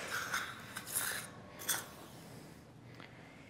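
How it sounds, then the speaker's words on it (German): Surgical scissors trimming tissue during a dental implant operation, a few soft crisp snips in quick succession heard faintly and close with no talk. "dann würde ich den noch ein klein wenig schneiden, kriege ich nochmal die Schere."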